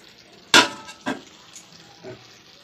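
Water is poured in cupfuls into a pot of sugar for syrup, with a few separate splashing pours, the first loudest, then quieter ones spaced about half a second to a second apart.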